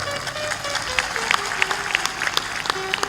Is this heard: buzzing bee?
no